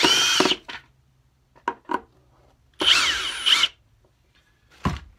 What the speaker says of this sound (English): now we're going to take off these two screws here in the back that hold the neck in place